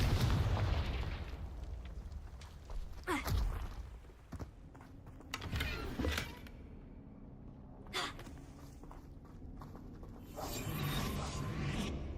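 Blasting spell explosions in the Hogwarts Legacy video game, several heavy booms and bursts with rumbling low end and crackling debris, separated by quieter gaps, loud and without voices.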